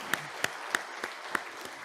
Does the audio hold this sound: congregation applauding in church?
yes